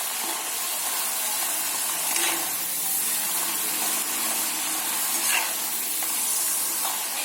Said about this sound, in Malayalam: ലാസ്റ്റ് നമ്മൾ 2ാമത്തെ സ്റ്റെപ്പ് എന്ന് പറയുന്നത് എണ്ണയിലേക്ക് പിന്നെ വീണ്ടും ഇട്ട് കൊടുക്കുകയാണ്